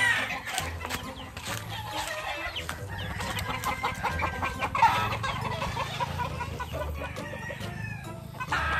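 Chickens cluck and call on a farm amid a busy outdoor backdrop, with steady low background noise and scattered clucks throughout.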